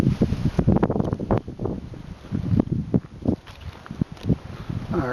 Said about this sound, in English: I hope the wind isn't too bad at the moment.